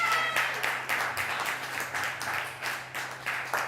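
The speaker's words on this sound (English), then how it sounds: "Clap it up." Audience at a live show clapping and applauding in steady bursts, moderately loud and fairly close, with a low hum underneath.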